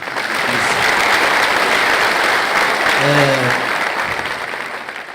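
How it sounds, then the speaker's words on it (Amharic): Audience applause at a poetry and jazz event, sustained dense clapping that swells and then tapers off, with a brief voice heard over the clapping partway through. "በደንብ አጨብጭቡላት።"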